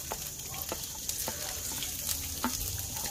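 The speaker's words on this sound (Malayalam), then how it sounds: "പച്ചമുളകും അതുപോലെ ഇഞ്ചി, സവോള, പിന്നെ ജീരകം, ആ ഐറ്റംസ് എല്ലാം ഇതിലോട്ടിടുക. എന്നിട്ട് നല്ലതുപോലെ ഇളക്കി കൊടുക്കുക." Green chilli, ginger, onion and cumin frying in a pan for masala dosa filling, with a continuous bright sizzle broken by scattered clicks and scrapes as the mixture is stirred.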